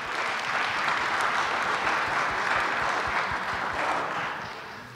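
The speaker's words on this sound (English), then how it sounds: "I'd like us all to give a round of applause for our four guests" A conference audience applauds four industry panel guests, sustained even clapping filling the room at a steady level before tapering off at the end.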